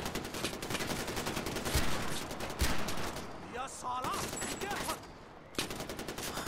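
Gunfire in Far Cry 4, rapid bursts of automatic shots crackling over ambient game sound, pausing briefly midway before resuming, with a voice speaking in between.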